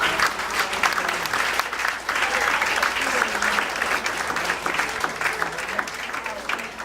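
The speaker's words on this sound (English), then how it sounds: "Ladies and gentlemen, give Holly a big round of applause." An audience at a magic performance for a school benefit applauds a volunteer named Holly, with a dense, sustained burst of clapping and some crowd voices mixed in.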